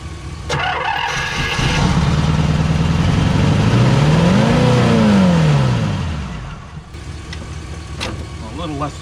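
1978 Pontiac Trans Am engine starting and idling, then a single full-throttle rev that swells and falls away before settling back, loud and close, with brief clicks at either end.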